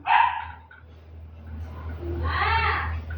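A dog barks in two short bursts, the second louder and more drawn out, close by, over a low background hum.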